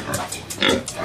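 Pigs in a piggery at an agropastoral training centre grunt several times in quick succession, close and fairly loud, with no talk over them.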